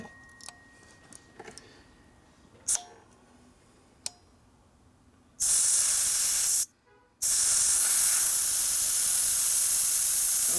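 Air hisses from a deflating tire on a 2008 Buell Blast being converted to a trials bike, starting after a few faint clicks and taps, then a loud steady rush that cuts off briefly before resuming strongly, close by.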